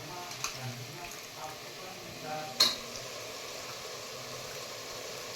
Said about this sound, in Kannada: ಈಗ ನಾವು ಕಟ್ ಮಾಡಿ ಎತ್ತಿಟ್ಕೊಂಡಿರೋಂಥ ಎಲ್ಲ ತರಕಾರಿಗಳನ್ನ ಕುಕ್ಕರ್ನಲ್ಲಿ ಹಾಕೊಂಬಿಡೋಣ